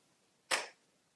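A single sharp hand clap, close and crisp, standing alone against near silence with a quick decay.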